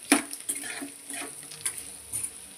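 Blood pieces frying with chili powder and coriander powder in a pan, with repeated spoon scrapes and clinks against the metal over a soft sizzle, close and fairly loud.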